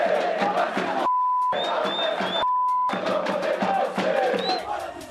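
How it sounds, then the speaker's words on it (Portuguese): Corinthians supporters protesting at the gates of Neoquímica Arena after a match, a loud crowd of shouting and chanting voices, broken twice by brief censor beeps. "Após a partida, muitos protestos da torcida corintiana na porta da Neoquímica Arena."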